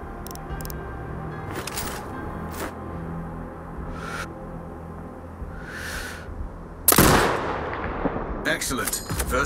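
Sniper rifle shot in Sniper Ghost Warrior Contracts 2, a single loud sharp blast near the seven-second mark over an ambient game soundscape with brief clicks and whooshes beforehand.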